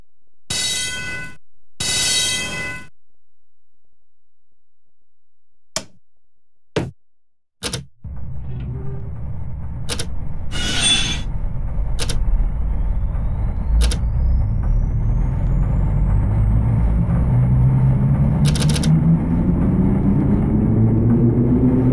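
Sacramento Northern Holman Class 1003 interurban MU train in Train Simulator 2017, running 12 motors and 6 trailers, with clicks and clunks, then a loud rumbling motor whine climbing steadily in pitch as it accelerates, no talking.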